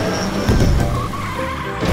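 A super monster truck in a cartoon driving game drives and skids, giving a continuous close engine roar with a tire-squeal skid over two seconds, with no talk.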